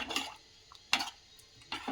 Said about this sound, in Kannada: ಇನ್ನು ಫ್ರೈ ಮಾಡಿರ್ತಕ್ಕಂಥ ಪನ್ನೀರು ಸೇರಿಸ್ಬಿಟ್ಟು ಒಂದ್ಸಲ ಮಿಕ್ಸ್ ಮಾಡಿಬಿಡೋಣ